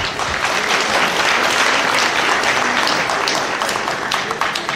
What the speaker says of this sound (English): Round of applause are welcome